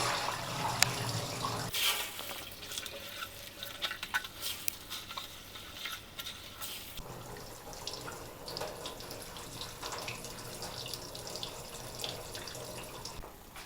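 Soaked bird seed mix for parrots being rinsed under a running tap, a continuous close rush of faucet water with patter and splashing into a container, no voices.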